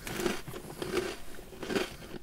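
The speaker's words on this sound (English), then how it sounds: "I can hear you crunching." Someone crunches food while eating, three distinct bites spaced about three-quarters of a second apart, close and fairly quiet with no talking.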